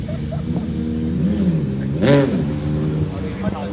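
A motorcycle fitted with a K9 silencer exhaust revs, its engine tone rising and falling in a sharp blip around the two-second mark, while someone talks over it throughout.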